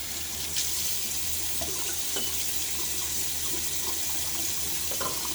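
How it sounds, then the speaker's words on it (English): Water runs steadily from a tap while shaving soap is lathered, a constant close splashing hiss with a few faint clinks, no voices. "I'm going to keep adding a little bit of water."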